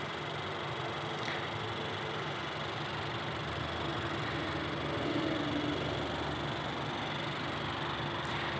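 A 2018 Honda CR-V's 1.5-liter turbocharged direct-injection four-cylinder engine idles with an even, low hum at a moderate distance, unchanging throughout with no voices.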